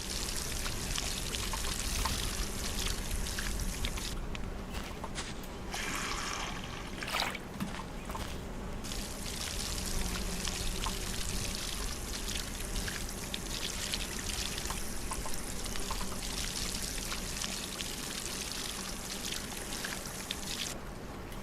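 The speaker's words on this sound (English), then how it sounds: "Let's go ahead and water all of these." Steady splashing, trickling water from a watering can pouring over crops in the farming game Solarpunk, a continuous close pour lasting throughout with brief dips, no talk.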